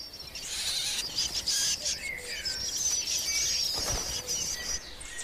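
Young blackbirds clamour for food in their nest in a French forest, a dense, continuous wash of high, shrill begging calls that stays loud and steady throughout, with a brief muffled flutter near the end.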